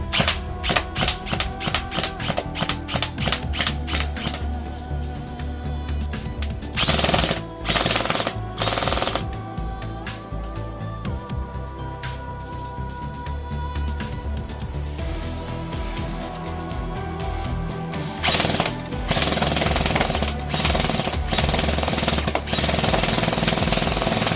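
Rapid bursts of a Scorpion VZ.61 electric airsoft submachine gun firing gel balls, loud mechanical rattling volleys separated by short pauses, with a longer sustained burst near the end.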